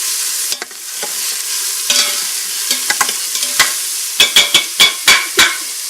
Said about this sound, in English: We're going to give this a stir.